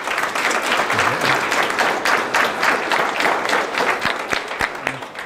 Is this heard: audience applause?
yes